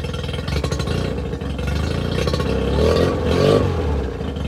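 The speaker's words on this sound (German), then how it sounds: "einmal vorwärts, einmal rückwärts und dann gebe ich noch mal ein bisschen Gas" An inflatable boat's outboard motor, run on a trailer while winterizing, idles with a steady putter and then revs up twice in forward gear, loud and close.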